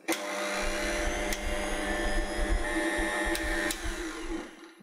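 An electric mixer whirs steadily through cake batter with added sugar, a continuous loud motorized drone with a few brief clicks and slight pitch wobble, no talking.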